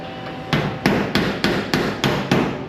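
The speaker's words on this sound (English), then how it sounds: "take our hammer and dolly, put our dolly on the back side here, push, and we're going to hit every one of these spot welds" Steel hammer striking spot welds on a 1969 VW Bus body panel, with a dolly braced behind: seven sharp, evenly spaced metallic blows, close and loud, each ringing briefly into the next.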